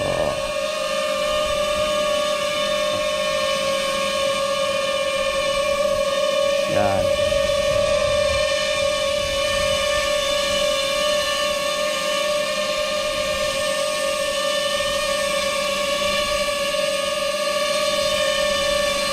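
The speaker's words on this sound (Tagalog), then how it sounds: "naka-hover lang siya sa eye level" A DJI FPV drone hovers at eye level, giving a steady, loud multi-toned whine with strong sustained harmonics throughout, one brief pitch sweep partway through, and no talking.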